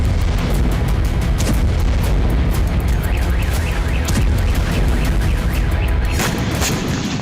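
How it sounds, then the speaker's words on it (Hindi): Loud blasts and booming rumble from a Ukrainian drone attack in Tatarstan, a dense, continuous roar with repeated sharp bangs and crackling bursts, with no talk over it. "अब तातारिस्तान में यूक्रेन ड्रोन हमले से जोरदार धमाका हुआ"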